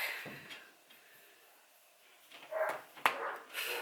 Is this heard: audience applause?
no